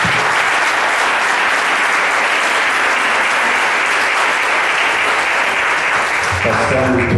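A church congregation applauds a reverend at a blessing-weekend service, sustained loud clapping filling the room steadily, with voices mixed in and a speaker starting to talk near the end.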